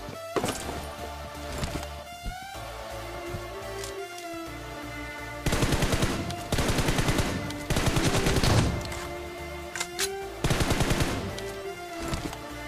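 M416 rifle gunfire in the mobile game BGMI crackles in repeated automatic bursts over game sounds, several loud sustained volleys spaced across the stretch with shorter single shots between.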